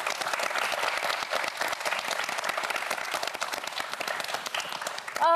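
A TV quiz show audience applauds steadily with dense, continuous clapping at moderate loudness, ending with a brief musical tone.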